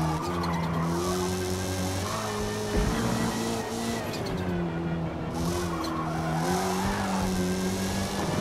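A race car in Gran Turismo, driven with a Thrustmaster T300 RS GT wheel, revs steadily with rising and falling engine tones and sustained tire squeal, loud and continuous throughout.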